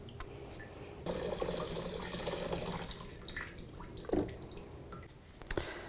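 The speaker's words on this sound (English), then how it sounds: "There's going to be fuel in there. Just try to drain it back into the tank" Liquid fuel pours and trickles from a 2007-13 Chevrolet Avalanche fuel pump module back into the tank, a steady close splashing stream with a few louder drips and knocks near the end.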